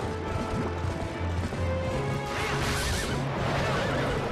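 A horse whinnies amid a dense, loud battle soundscape in the video game The Legend of Zelda: Twilight Princess, with clashing game effects and hoof-like thumps filling the whole stretch.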